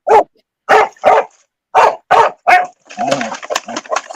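A dog barks in Queensland, Australia, in summer: six sharp, loud, close barks in uneven pairs with short gaps, followed by scuffling, rustling movement and a few softer yips.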